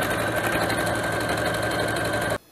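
A sewing machine stitches a jacket sleeve with fabric placed right sides together, sewing 1 cm from the edge. It runs in one continuous, loud, close whir, then stops abruptly just before the end.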